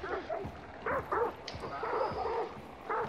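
Dogs in the Hunt: Showdown video game barking and yipping in repeated short bursts at mid distance, several barks with whimpering tones, while players talk over them.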